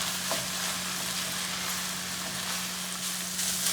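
Lasagna sauce bubbling hard in a pan, a dense, continuous crackling sizzle held close and steady, with a low hum beneath and no voices.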